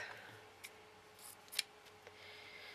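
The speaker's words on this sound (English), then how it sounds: "I need to cut this in half, about the same length." Scissors snip through fabric flower material for a shabby chic flower, making a few faint, sharp clicks spread across a quiet background with no speech.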